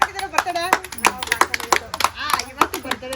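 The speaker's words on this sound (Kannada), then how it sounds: "ಚಪ್ಪಾಳೆ ತಟ್ರಿ ಎಲ್ಲಾರು ಚಪ್ಪಾಳೆ ತಟ್ರು." A family claps their hands at a Mother's Day birthday celebration at home, with a quick irregular patter of claps throughout while people talk and call out over it.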